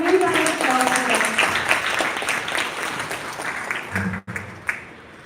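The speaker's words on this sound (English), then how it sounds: "Can we have a huge round of applause for that?" An audience at a college event in Janakpuri, Delhi, applauds a speaker with a steady, dense wash of clapping. It fades out near the end and a few scattered claps remain.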